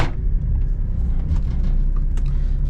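A Mitsubishi Bravo kei van drives along a New York City road, its engine a steady, loud low rumble heard from inside the cab with continuous road noise and no talking.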